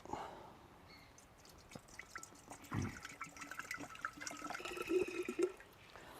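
Someone pours a litre of water into a jug, a quiet trickle with soft drips and splashes that builds briefly, close by with no talk over it.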